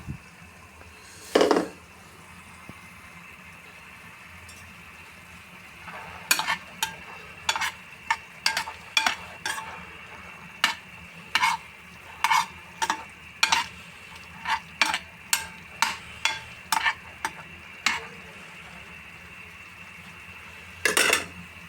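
Eggs simmer and fry in adobo in a pan, with a steady low sizzle under a long run of sharp, irregular scrapes and knocks from a utensil stirring against the pan, loud and close, with no talking.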